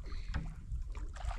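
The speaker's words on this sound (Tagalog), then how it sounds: "Kailangan pa rin ng ganyan, sagwan-sagwan lang muna." Rowboat paddled across calm water, with a brief soft swish and splash of a stroke, faint and nearby, and a small knock at the end, no voices.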